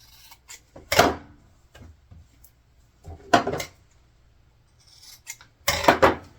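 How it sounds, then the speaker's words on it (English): Scissors snip fabric corners close to the seam on a sewn LARP belt favor, three separate clusters of quick crisp cuts with quiet pauses between them. "So for these corners, we're going to want to trim them as close to your corner as possible."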